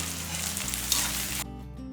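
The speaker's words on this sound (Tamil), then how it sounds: "பாருங்கள் வெங்காயம் இந்த அளவுக்கு நல்லா வதங்கிட்டுருக்கு" Onions fry in a pan with a loud, close, continuous sizzle and stirring that cut off abruptly near the end, leaving only a low hum.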